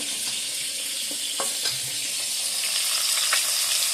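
Food fries in a home kitchen pan with a constant, close, bright sizzle and a few soft clatters, steady throughout and with no voices.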